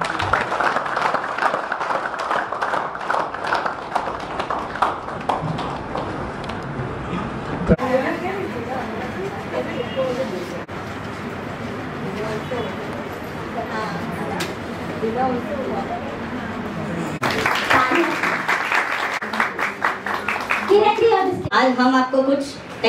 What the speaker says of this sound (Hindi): तालियां तो बजाएंगे।